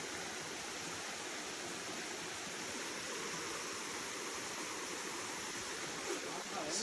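Water flows down from above outdoors, a continuous broadband rush like a small stream or waterfall, steady throughout with a faint bump near the end.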